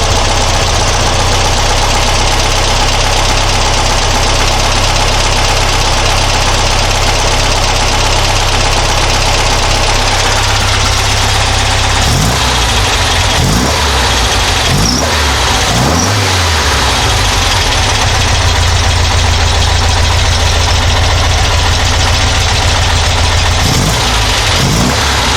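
A Dellorto DRLA-carbureted engine idles steadily with one cylinder deliberately disabled, giving a loud, continuous uneven idle. Several short low thumps and knocks break in over the second half, with no talking.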